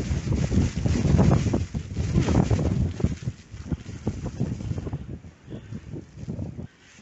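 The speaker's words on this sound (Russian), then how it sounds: "Метель вьюжит." A blizzard blows in fierce, buffeting gusts, roaring and rumbling against the microphone with low-pitched turbulence that gradually eases toward the end.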